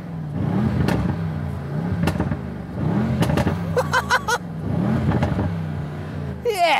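Mercedes-AMG S 63 biturbo engine revved at a standstill, heard from outside: three or four rising and falling blips, each swelling then dropping back, with a short spoken remark near the end.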